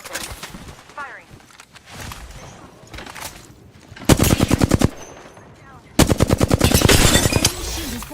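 Automatic gunfire in an Apex Legends-style shooter while playing Wattson, with two loud rapid bursts of evenly spaced shots after quieter game sounds and voice chatter in the background.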